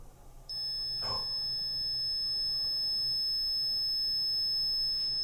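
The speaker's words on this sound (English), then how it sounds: "Alarm." A steady high electronic alarm tone begins abruptly and holds continuously inside a quiet shower room, with a soft thump early on and faint room noise underneath.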